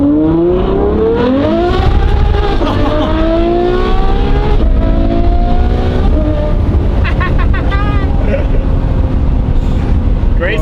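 A Lamborghini Murcielago with a manual conversion revs loudly up close, its engine pitch sweeping upward through several climbs and drops, then settling into a rough idle, with voices talking underneath.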